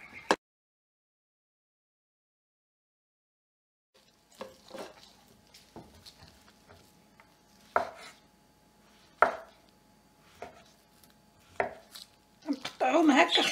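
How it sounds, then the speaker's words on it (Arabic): A knife chops button mushrooms on a cutting board, giving a string of sharp, irregular knocks close by after a few seconds of silence, with a quicker burst of cuts at the end. "نقطعهم هكا خصهم يجيو طرونش هكا"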